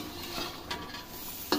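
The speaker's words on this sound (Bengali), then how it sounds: "ভালোভাবে নাড়াচাড়া করব" A spoon briefly stirs ground coriander, cumin, ginger and garlic paste through a hot kadai for chicken curry, giving soft scraping under a quiet sizzle and ending in a sharp metallic tap.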